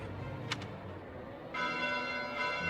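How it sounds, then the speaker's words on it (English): Church bells ringing at night in Fire Emblem: Three Houses, a bright sustained toll that swells in partway through, moderately loud over a low ambient drone, with no talking. "Bells? This late at night?"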